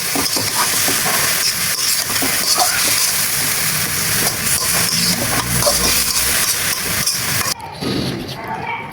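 Kalai greens fry in a pan as dried chillies go in, giving a loud, steady sizzle and hiss with stirring scrapes that cut off abruptly near the end.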